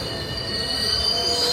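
A train pulls into a station, its wheels squealing in a loud, continuous high screech over the low rumble of the cars rolling along the rails.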